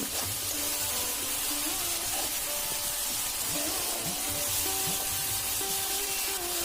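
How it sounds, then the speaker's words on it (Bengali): Raw mung dal is sautéed with spices in hot oil in a pan, giving a continuous close sizzling hiss with faint stirring and scraping under it. "মশলার সঙ্গে মুগ ডালটাকেও কষিয়ে নিচ্ছি ভালো করে"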